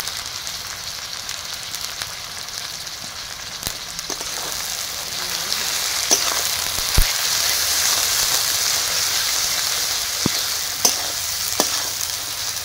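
Chopped tomato frying with ginger-garlic paste and a pinch of salt in a pan, a constant crackling sizzle with occasional pops and spatula taps.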